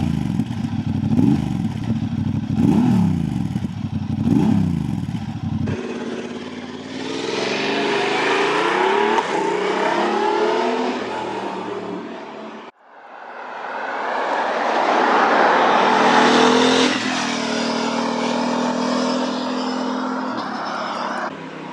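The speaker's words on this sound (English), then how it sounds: "create a characterful twin-cylinder pulse feeling as well as a distinct engine sound" A 2024 Honda CB750 Hornet parallel-twin engine with an SC Project muffler rumbles at idle, then revs and accelerates hard through gears in two loud, close passes, with no talking.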